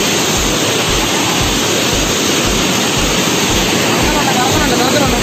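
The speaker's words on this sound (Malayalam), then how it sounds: "നമ്മളിപ്പോൾ വെള്ളച്ചാട്ടത്തിൽ എത്തിയിട്ടുണ്ട്." A hidden forest waterfall in Kerala pours over slippery rocks with a loud, dense, unbroken roar that fills the scene close by and holds steady throughout.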